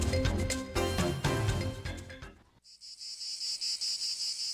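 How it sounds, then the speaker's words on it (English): Loud cicadas in summer drone in a steady high-pitched buzz with a pulsing rhythm, coming in alone after a stretch of music cuts out. "For many, the sound of cicadas is the sound of summer"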